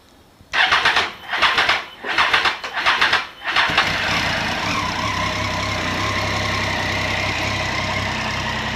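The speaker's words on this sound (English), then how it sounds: "I need to hold in the clutch for the Street Triple before I start it." A Triumph Street Triple demo motorcycle with a weak battery cranks in four or five strained bursts, then catches and settles into a steady, loud, close idle.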